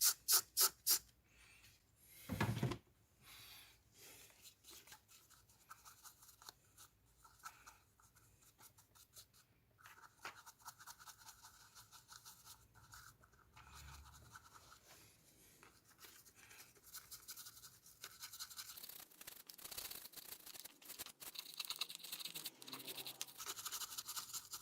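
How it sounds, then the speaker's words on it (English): A plastic brush with synthetic bristles scrubs oven cleaner foam on a Lexus LS400 engine part, making close, scratchy back-and-forth strokes that grow busier and louder toward the end, after a few sharp knocks at the start. "I'll agitate and brush it with this. It's a plastic brush with synthetic hairs."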